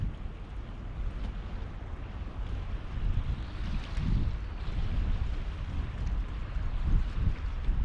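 Strong wind buffeting the microphone on the bank of the River Humber during a cold evening of sea fishing, a loud continuous roar with low gusting surges, water faintly washing beneath it, and no talking.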